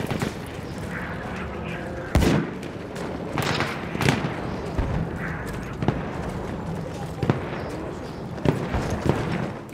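Sharp gunshots in Battlefield 1 crack at irregular intervals over a dense, rumbling battle din, some single and some in quick pairs, with voices faintly mixed in.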